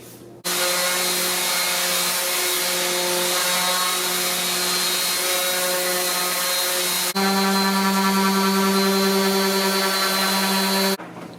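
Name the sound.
random orbit and belt sanders sanding cabinet surfaces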